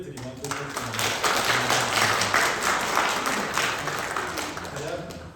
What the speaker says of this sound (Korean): 감사의 박수를 드리면 좋겠습니다.